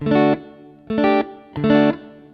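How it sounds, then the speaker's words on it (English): Three short electric guitar chords through a Tech 21 FlyRig 5 v2 reverb, each ringing with a spacious reverb tail that fades into the next, played alone with no talking. "So now you can hear the reverb."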